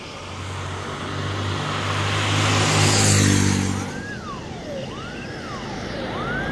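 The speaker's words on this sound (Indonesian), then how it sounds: "bus-bus yang telat masuk" Buses rumble past on a road, engines swelling and fading, while a wailing siren starts rising and falling in the distance.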